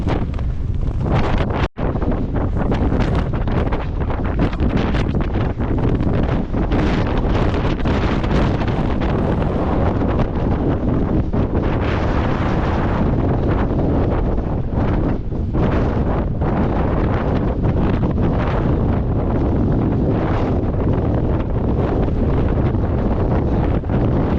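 Strong wind batters the microphone without letup during a coastal running route on the shortest day of the year, a loud, rough, continuous roar that covers everything else for the whole stretch, with no voices heard.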